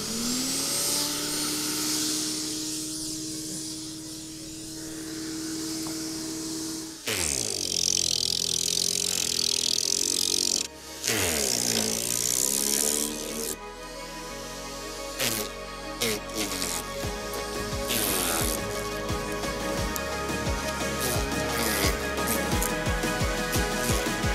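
A roughly 2.3 kW generator engine runs continuously to power a Greenworks garden shredder, a steady mid-pitched drone whose tone shifts and surges several times as the load changes.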